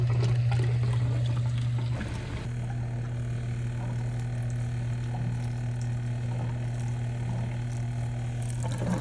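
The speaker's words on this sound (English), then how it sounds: "I'm just gonna go ahead and empty the tank." Water drains from a camper's water tank through a hose, a constant rushing pour with a low steady hum beneath it, nearby and continuous, with no talking.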